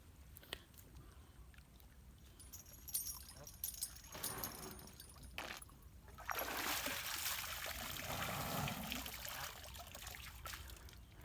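Faint water flows and trickles in the background, then swells into a louder rushing splash midway before easing back to a quiet trickle.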